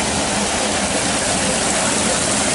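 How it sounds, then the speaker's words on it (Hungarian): Water streaming past a mill in Szentegyháza, Székelyföld, a steady, loud broadband rush that carries on unbroken for the whole stretch with no voices over it. "Itt jön a víz."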